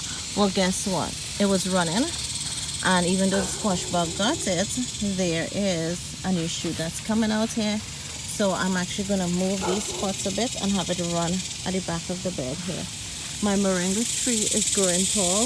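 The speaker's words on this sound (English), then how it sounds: "the noise you hear in the background, that's the cicadas" Cicadas keep up a constant high, hissing buzz in a backyard vegetable garden in mid-July, steady and fairly faint behind someone talking close by throughout.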